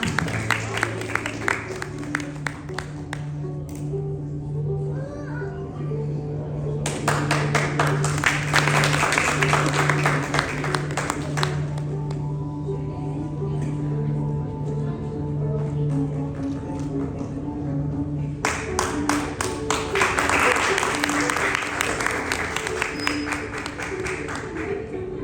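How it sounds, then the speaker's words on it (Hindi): Loud applause rises from the audience at an awards ceremony honoring excellence, sustained rounds of dense clapping that swell, ease off briefly, then surge again, with a voice speaking over part of it. "जोरदार तालियां।"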